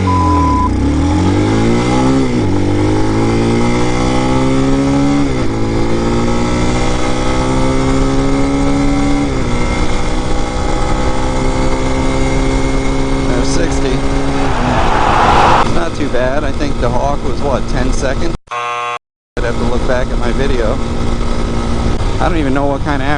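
A Brozz 250 Chinese motorcycle, just rejetted, runs a 0 to 60 on the road: loud engine roar climbing in pitch through repeated gear shifts, steady wind rush, and a brief dropout near the end.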